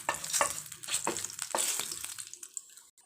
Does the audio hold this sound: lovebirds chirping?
no